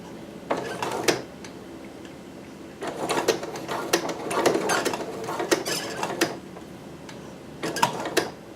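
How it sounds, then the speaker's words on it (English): A home sewing machine stitching a small dress piece over pins, quiet mechanical clattering in short bursts with pauses between runs, close by and alone. "I'm just going to sew a little bit over the pins because these small pieces like this tend to move a lot"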